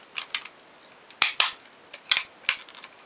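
A Power Rangers Samurai toy weapon fires electronic blaster effects in short sharp bursts, several quick pops in an uneven rhythm, close and moderately loud with no talking.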